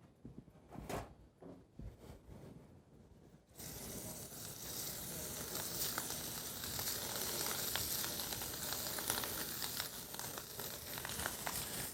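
Dry-brined shrimp land in a hot pan and begin sizzling, a broad steady hiss rising suddenly after a few seconds of quiet handling clatter and continuing strongly to the end.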